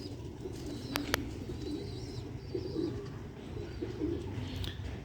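Pigeons cooing steadily, kept by a fancier, with soft overlapping coos close by, a couple of sharp brief clicks near the start, and faint chirps in the background.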